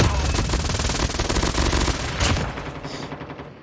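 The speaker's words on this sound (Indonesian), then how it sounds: "Pada nembak apa sih, berisik banget." Dense automatic gunfire in Call of Duty Mobile, loud and continuous rapid bursts that roll on for several seconds before tapering off into quieter trailing shots and fading.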